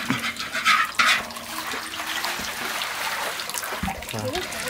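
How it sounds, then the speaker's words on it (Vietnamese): Water being poured at home, a splashy running stream with bursts of louder gushing, close by, under people talking throughout. "một thanh niên là chuyên rót nước đấy"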